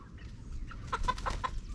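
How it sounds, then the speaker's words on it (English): Chickens on a homestead cluck in a short run of four or five close, distinct calls, following someone at fairly near range over a quiet outdoor background. "Oh, the chickens are following me."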